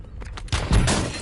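Gunfire bursts in a Call of Duty game: a couple of faint early pops, then a loud close blast followed by a sustained noisy rumble of shots.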